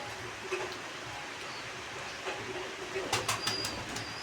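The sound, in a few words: pigeons cooing in a pigeon loft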